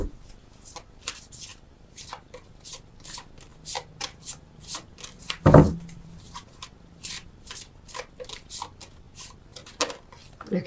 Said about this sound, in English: why are you shuffling so long?